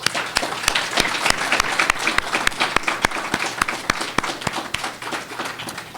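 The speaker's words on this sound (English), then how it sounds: "I would like for everyone to give them a round of applause." An audience in Oil City applauds veterans and serving military members at a Flags for the Fallen gathering; a lively round of clapping with distinct sharp claps standing out over a continuous wash, close and fairly loud.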